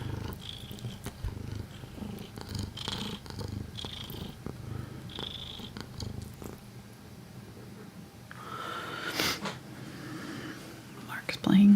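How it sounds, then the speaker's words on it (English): A domestic cat purrs close by with a low rumbling rhythm, joined by soft whispery sounds and light brushing noises, then a brief louder rustle near the end. "Getting some sweet purr audio."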